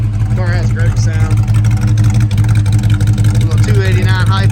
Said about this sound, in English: A little 289 HIPO thumping.